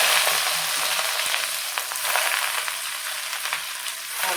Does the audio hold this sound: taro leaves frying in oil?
yes